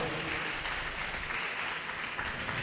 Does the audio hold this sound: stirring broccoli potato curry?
no